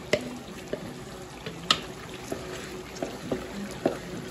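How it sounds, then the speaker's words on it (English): A spoon stirs okra sauce with garlic, onions and tomatoes in a pot in a home kitchen, making a series of soft, separate wet scrapes and clinks at close range over a quiet sizzling background. "I'm going to stir"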